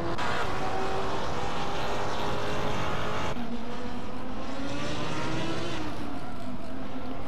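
A racing car engine in a video game revs high and steady, then drops abruptly in pitch as it shifts up around the middle before climbing again, loud and close with no talking.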